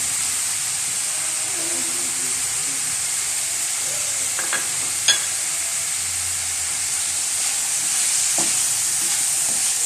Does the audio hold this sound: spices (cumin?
yes